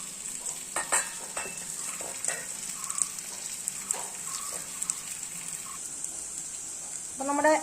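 Ginger, onion and green chillies sauté in a pan for a karimeen (pearl spot fish) curry, a steady hiss of frying under occasional scraping stir strokes, fairly close, with a louder clatter near the end.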